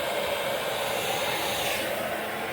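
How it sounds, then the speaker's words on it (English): A hair dryer on low heat blowing steadily over laptop adhesive, a continuous airy whoosh with a motor hum, close and unchanging throughout. "So we'll go ahead and run this hairdryer over the adhesive"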